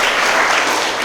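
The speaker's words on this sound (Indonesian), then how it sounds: "Tepuk tangan bagi Kristus Tuhan" A church congregation bursts into dense, loud applause, a brief unbroken wash of clapping with no voices standing out.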